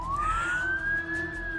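A police car siren in an audio drama wails as a single rising tone, steady and moderately loud, with no speech over it.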